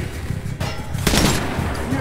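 Rifle fire in the shooter game Metro Last Light Redux, a sharp burst of shots followed by a louder, denser volley, with speech audible beneath the gunfire.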